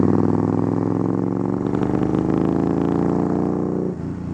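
A Harley motorcycle rides up a road with a steady, loud engine drone that rises slightly in pitch, then dips near the end as the rider eases off.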